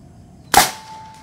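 A single sharp crack from an NB-013 air rifle firing a JSB 18.13g pellet, close and loud, breaking a quiet background and decaying quickly with a faint ringing tail.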